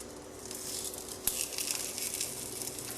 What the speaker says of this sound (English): When searing your ahi tuna, you're going to want to do about 2 minutes on each side.